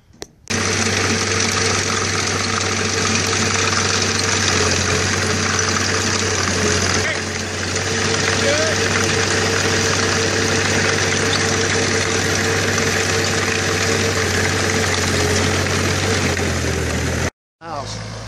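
A digging machine's engine idles nearby with a loud, steady mechanical drone and hum through the whole stretch, broken only by a brief cut near the end.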